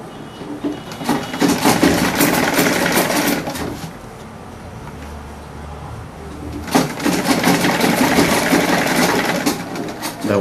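Sewing machine stitching a buba garment, running in two long steady whirring bursts with a short pause between, loud and close.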